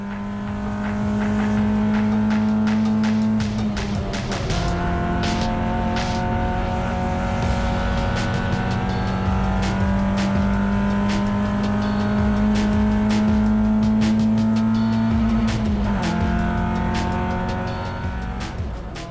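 A race car laps Wanneroo Raceway in Western Australia in an enduro, its engine droning loud and steady, pitch climbing through the gears, with brief dips at the shifts and tyre noise through the corners, heard alone throughout.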